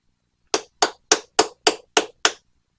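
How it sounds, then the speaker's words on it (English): A big hammer pounds metal in seven sharp, evenly spaced strikes, each blow ringing briefly, loud and close with no talk. "Now what we do is we take a big old hammer"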